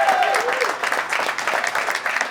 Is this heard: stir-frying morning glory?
no